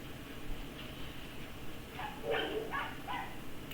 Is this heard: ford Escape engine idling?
no